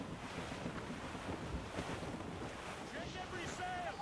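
A rough squall roars over the open sea in Assassin's Creed Rogue, steady loud wind and surf with creaking ship noise and a faint whistle near the end.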